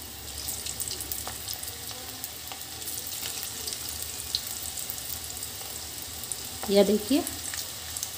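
Pakoda pieces (mixed bhujia pakoda) frying in hot oil over a high-to-medium flame, a steady faint sizzle throughout with a brief louder bubbling burst near the end; a voice speaks briefly.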